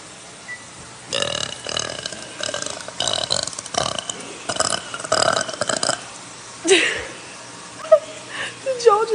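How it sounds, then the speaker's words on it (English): A long, drawn-out burp rumbles for several seconds in broken bursts, followed by a few shorter sounds near the end. "That was long burpage."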